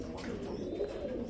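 Pigeons on a large breeding farm coo softly in the background, a low, faint murmur of overlapping birds under general ambient noise.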